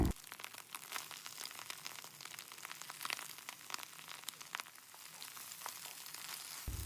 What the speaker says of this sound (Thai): แล้วก็ผัดคลุกเคล้ากันเล็กน้อยนะครับ